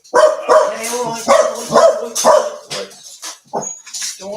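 Dogs barking in a quick, loud series of yaps right after being let out indoors, a few sharper barks and whimpers trailing off toward the end, close by.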